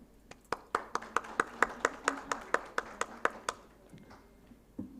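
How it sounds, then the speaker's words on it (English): Sparse, distinct hand claps at an awards ceremony for water sustainability, about a dozen sharp evenly spaced claps from a small group, nearby and fading out, with no talking. "Please give them a huge round of applause"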